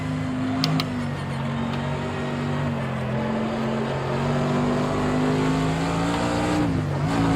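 Race car engine in the video game Project Cars 2 under hard braking, a steady close engine drone that shifts pitch and drops sharply near the end, with faint clicks early on.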